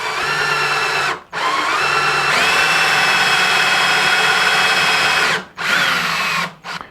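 A power drill whines steadily as it bores holes into carbon fiber, running in long sustained bursts with brief stops and restarts, close and loud with no voices over it.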